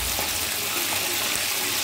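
A soft, constant sizzle of chicken wings frying in hot oil, a steady crackling hiss with no voices.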